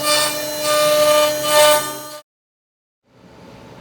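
A CNC router bit cutting a wooden tenon for a bench, a loud steady whine with a rasping edge that suddenly stops, then quiet noise returns after about a second of silence.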